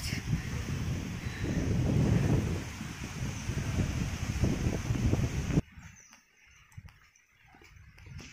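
Strong wind buffets the microphone during a ride out after exams, a loud continuous rumble for over five seconds that then drops away to quieter background noise.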